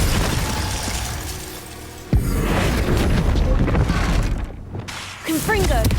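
Glacius ice spell striking in Hogwarts Legacy: a sharp, loud impact crack followed by dense crackling and rumbling debris, under ongoing game noise with a voice calling out spells.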